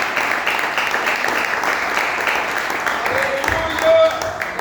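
A church congregation claps together during an evening service, a dense and steady wash of applause that fills the room. A voice speaks over the clapping.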